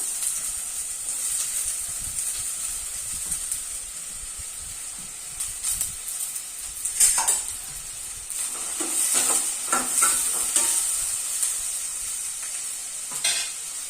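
Chopped onions and green chilies sizzle and fry in a hot pan with steady hissing, with scraping stir strokes growing busier toward the end; no voices.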